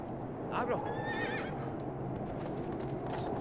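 A horse in the video game Shadow of the Colossus gives a clear, wavering whinny near the start, set against clip-clopping hooves and faint background sound, with no speech during the clip.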